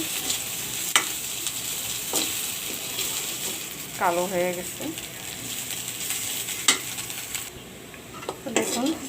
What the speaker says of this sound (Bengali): এখন খেজুরগুলি তেলে ভেজে নিলাম দিলাম ভর্তা করার জন্য